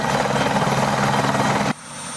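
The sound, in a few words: helicopter landing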